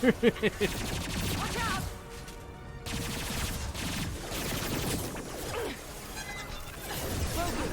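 Gunfire in Mass Effect 2, with rapid loud shots at the start followed by steady dense combat noise, crashes and mechanical clatter under a man's speech.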